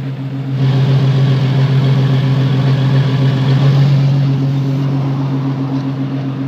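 A 1997 Jeep ZJ cruises in fifth gear with a wobbly, out-of-balance tire, giving a loud, steady low engine and road drone heard from inside the cabin, easing slightly toward the end.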